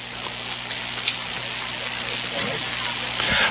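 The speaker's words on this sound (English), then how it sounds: "Rain's starting to come down a little bit harder here now in Walhalla." Rain falling steadily on an outdoor high school football game in Walhalla, a broad continuous hiss that swells slightly near the end, with faint crowd or voices underneath.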